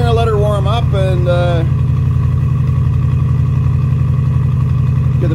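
A 1965 Thunderbird with a 390 engine and Autolite carburetor idles after a cold start at minus 15 degrees Celsius, a steady, even rumbling pulse; someone talks over the first moments.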